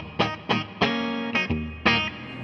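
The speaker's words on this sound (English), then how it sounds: "A little bit of our reverb going on just for a little sauce" An electric guitar played through an MXR-Dunlop reverb effect, several strummed distorted chords ringing out with a reverberant tail, loud and close.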